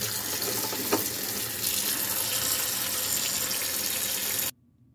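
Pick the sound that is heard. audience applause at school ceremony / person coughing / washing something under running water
washing something under running water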